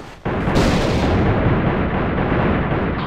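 A heavy grenade blast in the video game AVA erupts abruptly and loud, followed by a sustained rumbling roar of explosions and gunfire with no talking.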